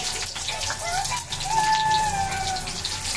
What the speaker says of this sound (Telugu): ఆనియన్స్ బాగా ఫ్రై చేయాలి